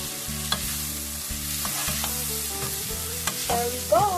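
Spicy squid stir-fry with sesame oil being stirred in a hot pan, soft sizzling under scraping and clinking utensil strokes, with brief louder knocks near the end.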